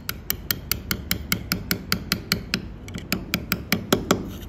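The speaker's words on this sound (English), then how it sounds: "You drive your chisel into the corner." A mallet strikes a chisel cutting letters into stone, giving a quick, regular series of sharp, close taps, about four or five per second, with a brief stumble in the rhythm partway through.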